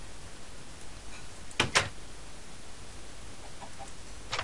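A Minecraft chicken gives a couple of short clucks, one right after another near the middle, over a faint game background with no talk.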